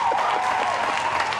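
Studio audience applause on a French television show, full and continuous clapping from a crowd, steady and fairly loud throughout, with no voices on top.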